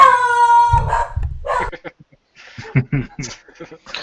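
A pet dog howls indoors during a tabletop role-playing game livestream, a sustained wavering tone lasting about a second, followed by people talking close to the microphone.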